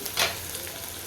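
Onion, tomato and okra for masala bhindi frying in a pan, a soft steady sizzle with one brief stirring scrape.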